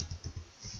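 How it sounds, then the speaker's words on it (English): Quick keystrokes on a computer keyboard while a name is typed into a classroom seating-plan tool, a short run of soft, uneven clicks close by with no voice. "So let's type in Matthew and just add a new student."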